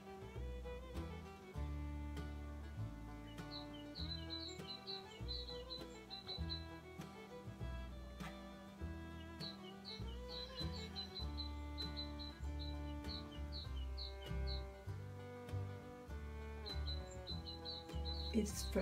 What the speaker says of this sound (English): while watching the nice panorama of the mountain and hearing the birds sing.